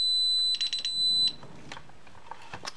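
A security alarm panel sounds its alarm in a series of sharp, high electronic beeps up close, followed by quieter clicks and handling noises as the detector is opened.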